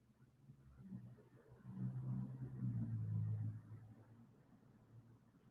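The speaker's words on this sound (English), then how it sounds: "there go the car" Car passing in surveillance footage: a low, muffled engine rumble that builds to a peak midway and then fades, distant and faint with no talk.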